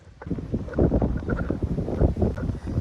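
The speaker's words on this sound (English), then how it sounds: "It's a little windy out here today." Heavy wind buffets the microphone in low, rumbling gusts that rise and fall throughout, loud and close.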